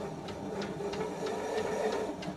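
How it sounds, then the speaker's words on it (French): Millstones in a stone grain mill grind against each other as they make contact, producing a steady gritty hum with rhythmic ticking pulses roughly every third of a second, close and moderately loud. "Là, on a entendu le bruit du contact de la meule."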